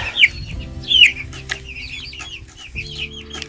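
Chickens in a chicken tractor give a few sharp clucks and short calls over a low background hum, with a brief flutter of wings and no talk.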